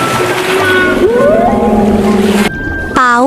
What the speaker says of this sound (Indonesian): Paus beluga adalah paus putih yang suka bersuara lucu seperti sedang bernyanyi di bawah laut.